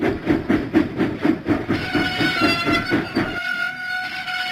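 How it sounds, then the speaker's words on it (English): A steam engine in a Thomas the Train video game chuffs out in steady rhythmic puffs, then a sustained whistle-like tone rings out as the puffing stops. "James pumped his pistons and puffed out of the docks."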